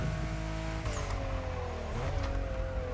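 Mitsubishi 3000GT VR4 engine racing in The Crew Motorfest video game, a loud continuous engine drone with rising and falling revs through gear changes, close and steady throughout with no talk.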